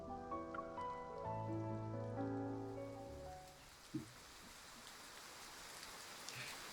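Steady rain from a rainy night comes in as a soft, even hiss once music fades out midway, then continues alone with a faint patter close by.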